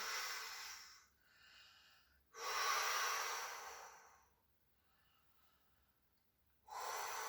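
Audible breaths during a core and weight-lifting workout, a strong exhale, a softer intake, another forceful exhale and a quiet pause before a final breath out, close and alone.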